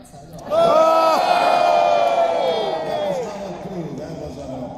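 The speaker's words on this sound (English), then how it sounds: "That was a wholehearted yell." A large audience at a Star Trek fan gathering lets out a loud, sustained yell and cheer, a dense wall of voices with a strong shouted tone that holds for several seconds before easing slightly.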